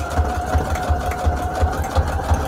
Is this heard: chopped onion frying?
no